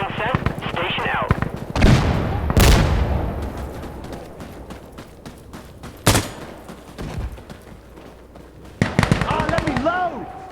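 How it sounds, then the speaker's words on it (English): Smoke rounds called in as fire support in the video game Insurgency Sandstorm land in a few loud, sharp thuds and bursts, with scattered gunfire between them. Radio and player voices talk over the noise. "Smoke rounds have been sent."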